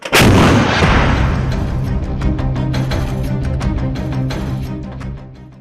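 An M777 howitzer fires a single very loud, close artillery blast that booms and then rolls away in a long, echoing rumble lasting several seconds.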